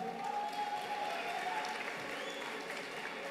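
A crowd applauds a rap battle contestant at an RRPL battle event, steady dense clapping with a faint murmur of voices.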